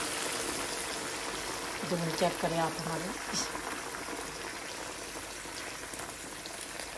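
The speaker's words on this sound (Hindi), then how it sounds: "अब इसमें मैं ऐड करने लगी हूँ पानी बॉयल करके" Freshly boiled water is poured into a cooking pan of tomato masala for chicken kebabs, giving a steady watery hiss and splash under someone speaking close by.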